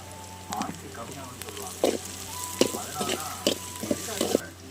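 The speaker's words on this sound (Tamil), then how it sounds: "எண்ணெய் ஊற்றிருக்கிறேன், கடுகு போட்டுருக்கிறேன், வெங்காயம் போட்டிருக்கிறேன், பூண்டு போட்டுருக்கிறேன், கறிவேப்பிலை போட்டுக்கிறேன். இதெல்லாம் போட்டு கொஞ்சம் வணங்கணும்." Onion, garlic, mustard seeds and curry leaves sauté in oil, giving a soft sizzle punctuated by repeated spatula scrapes and clatters against the pan, with a steady low hum underneath.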